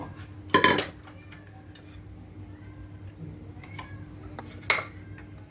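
Food being tipped into a metal cooking pot while making Thai chicken rice in a home kitchen, two sharp clattering clanks of metal, one early and one near the end, with quiet stretches between.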